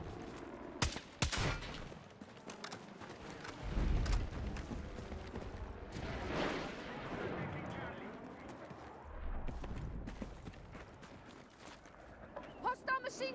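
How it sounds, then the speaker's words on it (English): Machine gun fire in a Battlefield 6 match, with sharp shots and rattling bursts over a dense mix of battle noise, rumbling explosions and a voice talking throughout. "Hostile machine gun in sight!"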